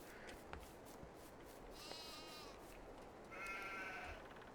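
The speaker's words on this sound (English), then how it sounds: "We get lovely lamb sounds, but we don't get lamb models" Sheep and lambs bleat in a farming simulator game: a few wavering calls, one higher lamb-like bleat and a longer, louder bleat near the end, over a soft ambient farm hiss.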